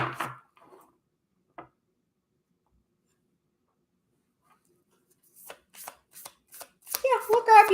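Oracle cards are shuffled during a live reading: a few faint taps come first, then a quick run of crisp riffling snaps near the end, with a voice starting over the last of them.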